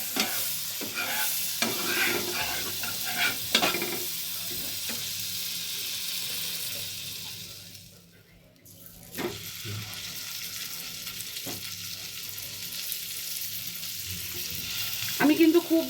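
Sheek kebabs fry in butter in a pan over low heat with a steady, soft sizzle, broken by occasional scraping and stirring knocks and a brief lull in the middle.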